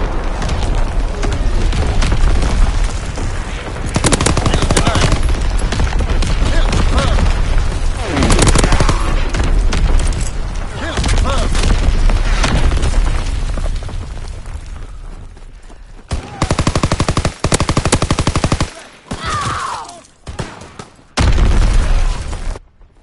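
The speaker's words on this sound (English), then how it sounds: "Incoming enemy artillery! Get to cover!" Incoming enemy artillery pounds the battlefield in Call of Duty with loud, dense explosions and gunfire. The barrage is continuous at first, then breaks into separate heavy bursts with short silent gaps.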